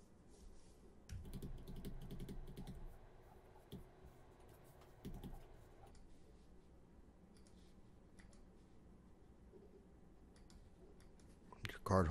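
Typing on a computer keyboard to enter a card number for a one-time online payment: quiet, quick runs of key clicks, heaviest at the start and again around the middle, fading to scattered taps, with a soft voice speaking underneath.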